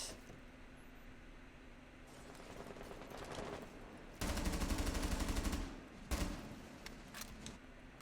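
Automatic gunfire in Rainbow Six Siege during a competitive esports league match, a sustained loud rattling burst followed by a shorter one, over quieter ambient game noise.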